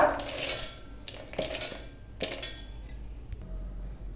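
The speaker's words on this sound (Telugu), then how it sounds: "ఫస్ట్గా పల్లీలు వేసుకోవాలండి మిక్సీ జార్లో." Dry peanuts tumble into a steel mixer jar for Guntur-style brinjal bajji batter, giving a few scattered rattling clatters and clinks, close and fairly quiet, with no talking.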